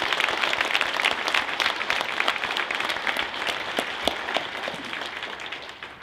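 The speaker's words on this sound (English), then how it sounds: "please join me in a round of applause for our veterans" A crowd applauds veterans at a Veterans Day ceremony, sustained clapping from many hands at close to medium distance that stays strong and then eases slightly toward the end.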